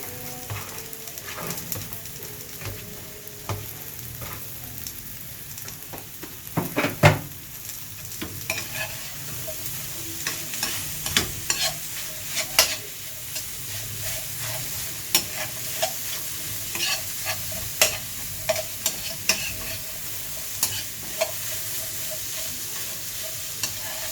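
Onions fry in a pan on the stove, giving a continuous crackling sizzle. Frequent sharp clicks and scrapes of a spatula stirring against the pan run through it at close range.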